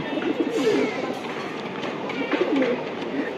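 A racing pigeon, a solid black bird, coos steadily in a loft with soft repeated low calls close by, and faint voices murmur in the background.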